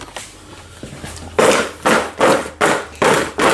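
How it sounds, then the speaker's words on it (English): Crispy buffalo chicken wings tossed in a pan or bowl, giving several loud, sharp clattering bursts at a steady rhythm after a quieter stretch of light tapping, close up. "You can hear how crisp they are."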